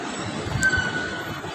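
A brief wash of busy railway station noise at Chhatrapati Shivaji Maharaj Terminus (CST) in Mumbai, a steady hum and rumble with a faint high metallic squeal partway through.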